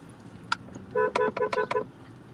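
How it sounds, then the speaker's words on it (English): Several short horn honks in quick succession, fairly close, with one brief beep just before them and a low rumble of traffic underneath. "We hear a lot of honking"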